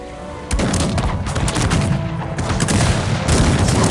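Musket volleys from musketeers in the PC strategy game Cossacks 3, a dense crackling fusillade of many overlapping shots that keeps going without a break.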